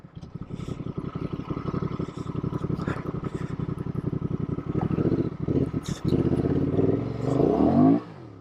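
Honda Transalp motorcycle accelerating in third gear on a ride in Idaho, its engine note rising in a steady pulsing drone that swells loudly into a hard rev near the end.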